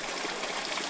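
Water gushing and splashing steadily at a Yazidi holy spring in the mountains of Iraq, a dense, continuous rush close by with no voices.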